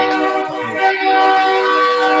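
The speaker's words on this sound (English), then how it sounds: "Sorry about that train horn." A train horn blares loud and close in one sustained, steady chord lasting the full two seconds.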